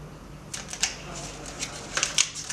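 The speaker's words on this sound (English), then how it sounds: "Take off the paper." Paper is peeled off a sublimation-printed mug, producing a quick run of light crackling rustles and small ticks, close and fairly soft, with faint background noise.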